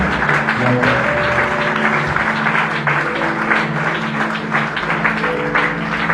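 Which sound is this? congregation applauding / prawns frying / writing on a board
congregation applauding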